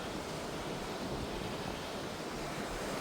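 A small waterfall on a path to the Bone Caves in February gives a constant, dense rush of falling water, steady and fairly near, with no talking.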